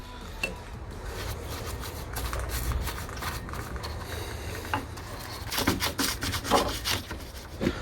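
Rust converter paint brushed onto bare car bodywork metal on a Fiat 500 / Ford Ka, a steady scratchy rubbing of bristles with louder, sharper strokes toward the end, close up and with no talking.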